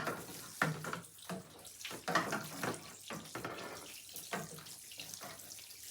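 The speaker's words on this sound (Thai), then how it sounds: "มะเขือเทศรดให้ชุ่มหน่อย" Indoor tomato plants are watered during winter in New York, with close, uneven splashing and pouring that comes in repeated short surges.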